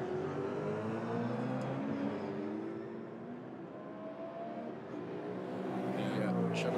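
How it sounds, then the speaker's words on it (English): Chevrolet Camaro GT4 race car from V8 Racing at Spa-Francorchamps during a GT4 European Series race, a fairly faint, steady engine drone with a slight rise toward the end and possible commentary under it. "The Chevrolet Camaro GT4 car from V8 Racing trying to reel in the leading number one machine"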